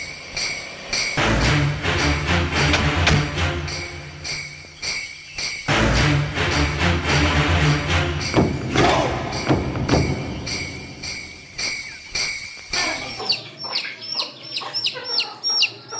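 Chickens cluck and squawk nearby, loud and busy, with a shrill insect-like chirping rising in the last few seconds.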